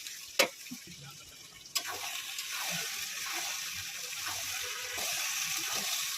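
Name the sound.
potatoes and mutton frying in a pan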